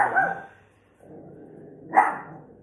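Two sharp barks from a dog, one at the start and another a couple of seconds later, with quiet room noise in between.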